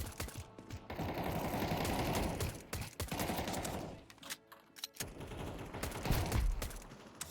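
Pistol and other gunfire in the zombie survival video game Project Zomboid, heard as dense bursts of shots with brief pauses between them, loud and close, with no talking.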